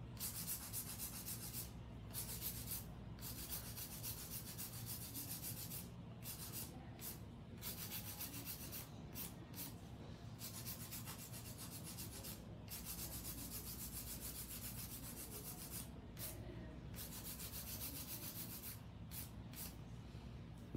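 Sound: hand filing a nail

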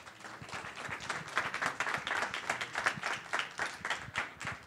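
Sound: audience applause

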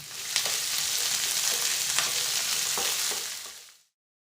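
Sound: capsicum sautéing in a pan with mustard seeds and curry leaves

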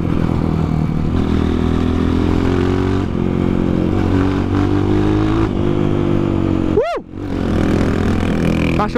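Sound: dirt bike engine cutting out

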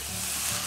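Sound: ready-made sauce sizzling as it is added to pan

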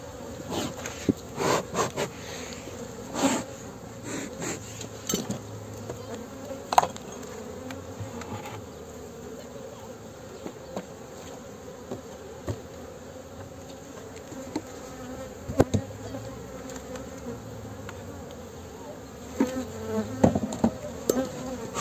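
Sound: honey bees buzzing around hive

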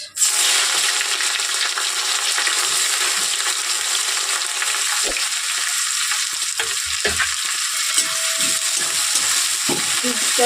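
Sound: onions frying in a pan

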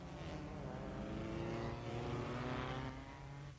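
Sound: Lancia Ferrari V8 race cars at 1957 German Grand Prix

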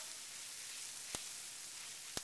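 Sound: peppers boiling and being stirred in a pot

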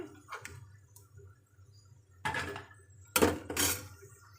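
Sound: fried maida cakes being taken out onto a plate

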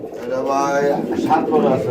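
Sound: pigeons on a pigeon farm

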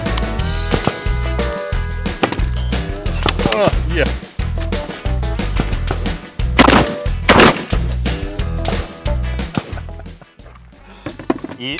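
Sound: gunshots from AR-15 rifle and shotgun shooting

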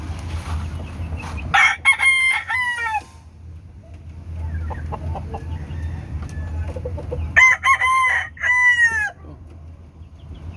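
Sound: rooster crowing

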